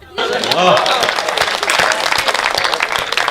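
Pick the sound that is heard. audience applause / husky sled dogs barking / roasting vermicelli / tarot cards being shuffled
audience applause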